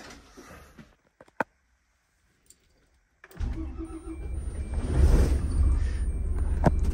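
A converted bus engine is cranked and catches after a few clicks and a near-silent pause, then settles into a loud, steady, low rumbling idle close by.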